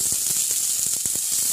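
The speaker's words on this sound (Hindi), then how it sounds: "इसमें हम डालेंगे करी पत्ता" Curry leaves sizzle in hot oil alongside sliced capsicum and green chilli for fried suji balls, giving a steady hiss with scattered soft crackles and pops throughout.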